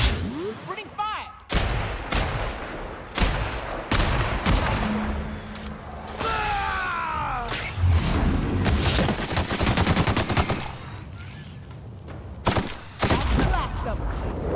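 Gunfire in The Outer Worlds: Spacer's Choice Edition, loud repeated shots and rapid bursts crack through a long firefight, with whooshing projectiles, booms and occasional voices mixed in.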